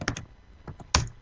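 A few scattered keystrokes on a computer keyboard while entering C# console code, a short tap cluster, a pause with faint clicks, then one louder key press near the end, close and alone.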